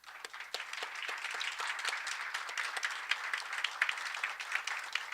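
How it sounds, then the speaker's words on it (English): An audience applauds a panel at a policy event on the US-Japan and US-ROK alliances, a fairly faint, steady round of many hands clapping that lasts throughout. "Could I please ask for a big round of applause for Katrina, for Admiral Yoshida, General Chun, and Admiral Blair."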